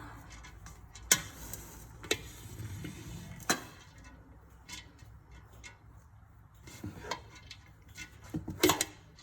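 Homemade dog food ingredients, including squash, being mixed by hand: quiet scraping with scattered sharp clinks and taps of a utensil against a container at irregular intervals.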